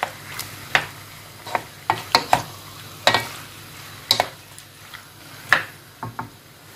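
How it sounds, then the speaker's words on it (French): A spoon stirs chicken filling for briouates in a frying pan, sounding as a series of sharp scraping clicks at an irregular pace over a low sizzle, close and clear with no speech. "je vais mélanger un petit peu"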